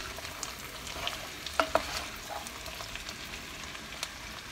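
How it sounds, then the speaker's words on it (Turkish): Washed, drained dried kidney beans sautéing in a pan with tomato paste for Turkish kuru fasulye: a low, steady sizzle with a couple of brief stirring clicks, fairly quiet and close. "Şimdi yıkayıp süzdüğüm kuru fasulyeleri atıyorum. Biraz da bu şekilde kavuracağım."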